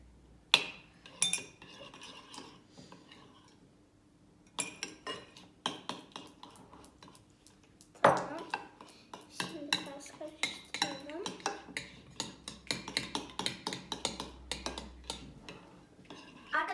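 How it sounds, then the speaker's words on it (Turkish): A spoon clinks and scrapes around a bowl while water is stirred for homemade slime, irregular sharp taps and rattles, close and fairly loud, with pauses between bursts. "Arkadaşlar biz suyumuzu döktük, karıştırdık."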